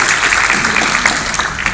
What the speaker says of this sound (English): we need applause for a sermon